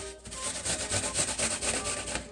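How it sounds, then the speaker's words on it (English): An apple is rubbed against the large holes of a cheese grater, giving steady rhythmic rasping strokes that are close and moderately loud, with no talk. "to grate the apple, all you have to do is pass it along the side of the cheese grater that has the larger holes,"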